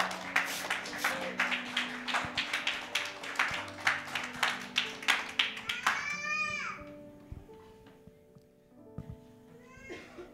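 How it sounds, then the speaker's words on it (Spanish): Church congregation applauding during a Christmas Day service, a dense run of rapid clapping for about six seconds that fades out, followed by quieter room sounds and a few scattered noises. "Dele un aplauso a nuestro Dios."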